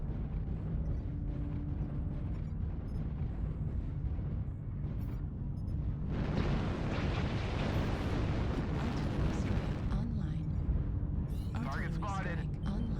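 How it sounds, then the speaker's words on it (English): Artillery strike explosions in a video game, a steady rumbling roar that erupts into a louder, longer burst of blasts midway and again toward the end, with voices under the din. "Artillery strike online."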